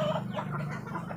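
Chickens cluck softly and steadily in a semi free-range coop, a continuous low flock murmur with no voices over it.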